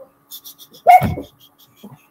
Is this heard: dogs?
yes